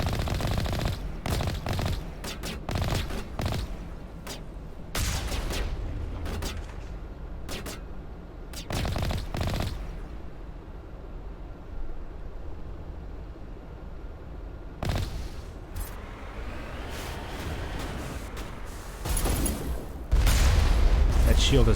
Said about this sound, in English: Oh, they're taking shots at me.